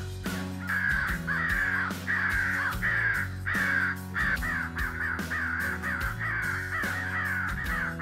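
A flock of crows caws loudly and without pause in a field during a crow hunt in Carolina, harsh calls overlapping and repeating in quick succession for the whole stretch.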